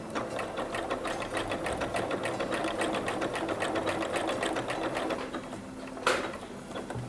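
A sewing machine runs steadily, needle pounding in a fast even rhythm while stitching two layers of fabric to finish an Easter gift package, with a brief sharp knock near the end and no talk.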